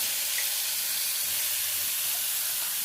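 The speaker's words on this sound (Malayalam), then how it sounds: "നമുക്ക് ചീനച്ചട്ടിയിലേക്ക് കുറച്ച് വെളിച്ചെണ്ണ ഒഴിക്കാം ഇതിലേക്ക് നമ്മൾ ഇടിച്ചു വെച്ചിട്ടുള്ള മുളകും ഉള്ളിയും കൂടെ ചതച്ചത് ചേർക്കാം" Crushed chili and onion hitting hot coconut oil in a pan, a steady bright hiss and crackle of frying that holds evenly throughout, close and moderately loud.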